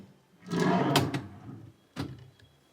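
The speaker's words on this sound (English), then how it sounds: "We have our drawers." A drawer in an accessible one-bedroom villa room slides open with a rumbling glide, followed by a short knock as it stops, close and fairly loud with no one talking.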